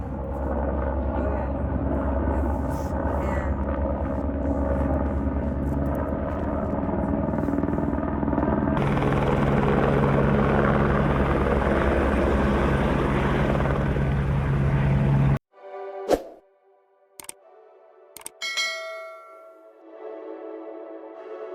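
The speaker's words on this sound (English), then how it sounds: "Here comes the helicopter, Allie." A helicopter thuds loudly and steadily for about fifteen seconds in the Colorado mountains, rotor chop rising as it passes close overhead, then cuts to quieter moments with brief voices.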